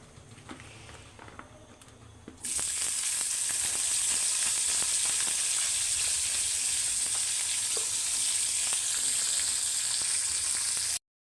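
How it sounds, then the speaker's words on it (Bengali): Onion and chili hit hot oil in a wok with a sudden loud sizzle that continues steadily and evenly, close up, after a quieter stretch at the start. "তেল দেওয়ার পর পেঁয়াজ মরিচ দিয়ে একটু ভেজে নেবে"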